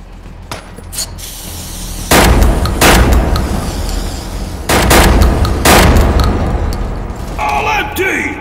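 Remington 11 shotgun blasts in the World War Heroes video game, several loud booming shots spaced a second or two apart with ringing tails, mixed with game voices shouting and clattering effects.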